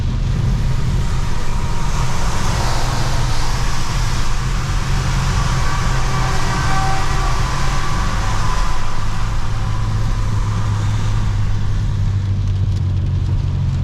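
A semi-truck rumbles close alongside a car on the road, a steady loud low roar of engine and tire noise that swells and holds throughout without any talking.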